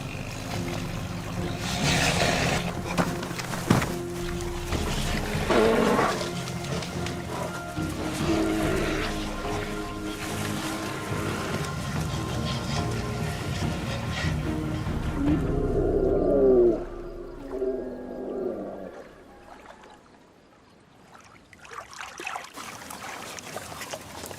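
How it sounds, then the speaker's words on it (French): Bear growling in the wild at dusk while feeding on the carcass of another bear, an old male killed in a fight; low, rough rumbling growls recur loudly over roughly sixteen seconds, then fade toward quiet. "Un ours dévore un de ses congénères."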